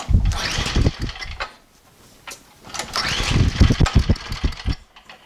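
A small MTD snowblower engine is pulled over and sputters, catching briefly in rough bursts, close and loud, with pauses between attempts.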